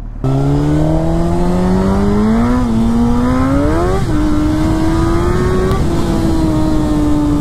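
A Suzuki GSXR 1000 superbike engine running steadily nearby, a loud continuous drone whose pitch rises and dips with small throttle changes, no talking.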